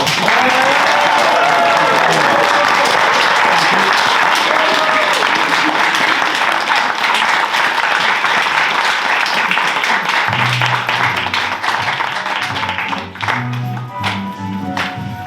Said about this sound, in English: can we have a huge round of applause to our newly married Julie and Paul?